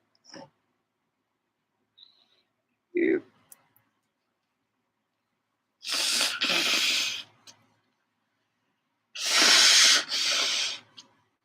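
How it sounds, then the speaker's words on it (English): A person sniffs and gasps in the quiet, then lets out two loud, breathy sneezes a few seconds apart. "Oh, I gotta sneeze."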